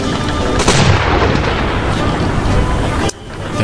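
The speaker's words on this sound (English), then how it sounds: "You feel free to use the side cannons." Ship side cannons fire during a naval battle video game, a dense, loud, continuous rumble of booms and blasts that cuts off abruptly near the end.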